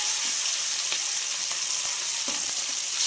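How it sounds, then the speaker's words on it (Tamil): Well fish frying in hot oil in a kadai, a steady, loud, crackling sizzle that runs unbroken with faint stirring clicks. "கடாயில் மீனை போட்டுக்கலாம்"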